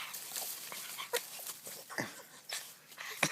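A tenacious dog chewing branches by a river whimpers in short, faint bursts, with scattered snapping and crunching between them.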